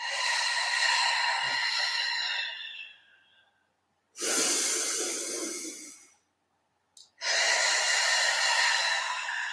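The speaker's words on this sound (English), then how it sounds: "exhale through the mouth." Long, breathy exhalations through the mouth during lateral rib breathing in a reformer Pilates session, three airy whooshes separated by silent pauses, close and fairly soft.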